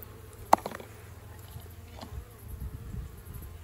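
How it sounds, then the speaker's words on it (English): A soft, steady buzz of honeybees around a backyard mini beehive hums in the background, with a sharp tap or knock near the start as bees are tapped back in. "there's a few bees clinging to the feeder, so just tip the sticks out of it there and I'll tap those bees back in"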